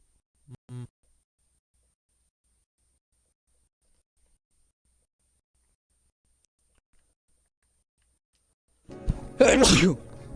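A single loud sneeze bursts out close by after a long stretch of near silence, with a faint short sound near the start, during an esports broadcast.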